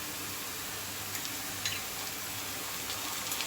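Ginger garlic paste sizzling with sautéed onions in a pan for potato peas curry, a faint steady hiss with a few light ticks and clinks.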